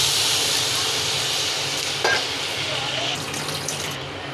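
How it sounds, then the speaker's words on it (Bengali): Water is poured into a pan of spiced fish curry masala, giving a continuous rushing pour over a steady sizzle that carries on for several seconds. "এবার দিয়ে দিব পরিমাণ মতো পানি।"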